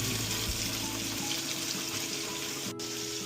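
Burgers sizzling in a frying pan: a steady, close hiss of frying fat with a low hum underneath, and a brief clunk of the pan or spatula during the flip.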